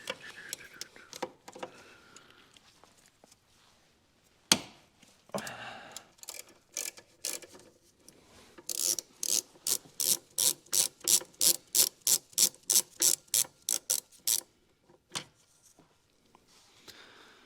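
A hand ratchet clicks in a fast, regular series of sharp ticks while an Allen bolt is backed out on a Mercedes SL500 6.0 AMG soft top, preceded by scattered handling knocks and faint background noise.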